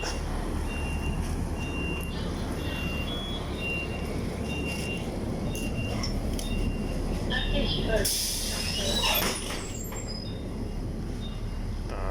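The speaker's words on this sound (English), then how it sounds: "And my bus is here." A city bus in Taiwan pulls up amid busy street traffic, its steady engine rumble rising and then a loud hiss of air brakes and doors near the end, with a voice talking over it.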